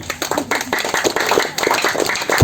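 An audience at a regional government gathering in Ngada, Flores gives a sustained round of applause, with dense clapping close by and continuing without pause.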